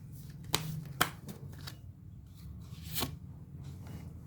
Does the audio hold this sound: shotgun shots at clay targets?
no